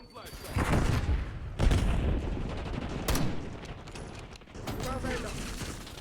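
Gunfire and explosive bursts from a Call of Duty Black Ops 6 match, including a thrown flashbang, with loud repeated shots and bangs in a noisy mix while in-game voice callouts sound.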